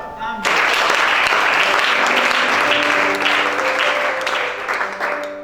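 A church congregation at a deliverance service erupts into loud, continuous applause after a voice, with sustained clapping and a held musical tone from a keyboard underneath.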